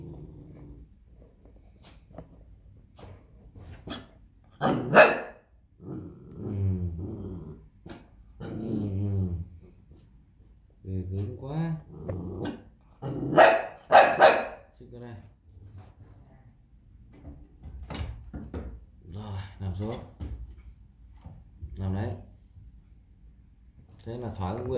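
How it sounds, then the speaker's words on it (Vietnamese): A dog indoors barking in sharp bursts mixed with growls and whimpers, close and loud, with a person speaking between the barks. "Thấy cái camera lại sủa,"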